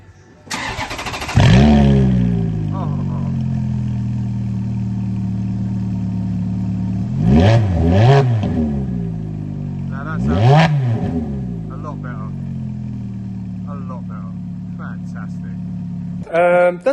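A Ferrari F430 with a cheap, modified exhaust starts up with a loud, close bark. It then settles into a deep, steady idle, broken by two or three sharp throttle blips.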